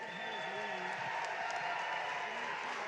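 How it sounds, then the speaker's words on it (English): A crowd at a boys' basketball game between Mishawaka and LaPorte applauds the youth cheer camp participants, a steady wash of clapping beneath an announcer's amplified voice. "let's give a hearty round of applause to our youth cheer camp participants"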